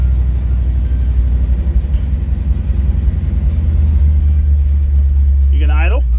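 A car engine idles roughly up close, a loud steady low rumble with uneven pulsing throughout, and a voice briefly speaking over it near the end.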